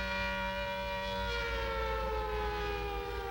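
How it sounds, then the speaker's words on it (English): A movie special-effects siren wails steadily and loudly throughout, its sustained rising-and-falling tone layered with harmonics and continuing without a break. "It's the special effects siren!"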